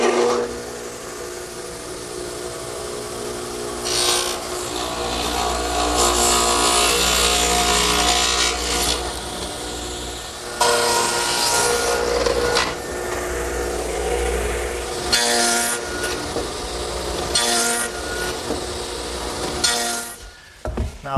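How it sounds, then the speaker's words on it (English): Radial arm saw fitted with a stacked dado head about 5/8 inch wide cutting wood, with a loud whining roar that swells during several passes and drops between cuts. "I've set up a stacked dado head cutter in my radial arm at about 5/8 of an inch width, and I'll just take my time and make all the cuts"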